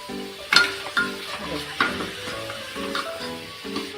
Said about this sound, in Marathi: आता इथे आपल्याला हा छान असा तुपामध्ये पूर्ण चांगला परतून घ्यायचा आहे।